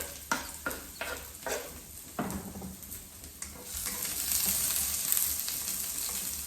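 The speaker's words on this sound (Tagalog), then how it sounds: "Igisa pa muna ito mga idol. Bawang." Garlic sautéing in a frying pan gives a steady, close sizzle that swells louder after a few sharp clinks of a utensil stirring against the pan; no one speaks.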